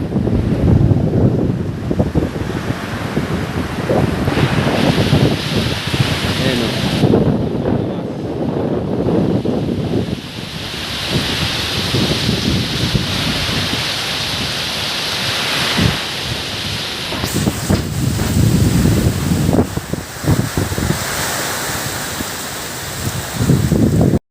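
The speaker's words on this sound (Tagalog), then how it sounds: "Grabe ang bagyo. Napakalakas. Ang hangin." Strong typhoon wind roaring and buffeting the microphone in heavy gusts, with rushing noise rising and falling throughout, no talking.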